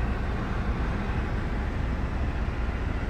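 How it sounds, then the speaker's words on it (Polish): Ventilation fans blow steadily in a car workshop, a dense, even broadband roar with no breaks across the short stretch. "Sorry za hałas, ale wentylatory tutaj dmucha"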